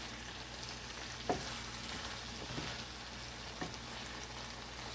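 Ackee sizzling steadily in a pan as part of a Jamaican ackee and saltfish dinner, a constant close frying hiss with a few soft knocks of gentle folding.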